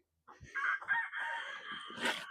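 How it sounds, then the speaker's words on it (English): A rooster on a farm crows at sunset, a single drawn-out cock-a-doodle-doo rising and holding at moderate distance, with no talk over it. "the rooster's letting us know the sun is going down"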